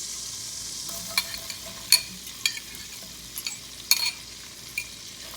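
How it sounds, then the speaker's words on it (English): Onions browning in melted butter in a pot for pot roast, a soft, steady sizzle under a series of sharp utensil taps and scrapes against the pot. "Now that the butter has melted, I'm going to add the onions and I'm going to allow them to brown."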